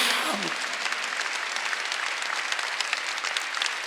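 Steady applause from a large congregation at a Korean church Sunday service fills the room, dense clapping that continues without pause after a brief voice at the start.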